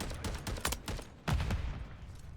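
Marksman rifle shots ring out in Modern Warfare 3, a quick volley of several sharp cracks followed by a heavier burst, close and loud with brief gaps between them.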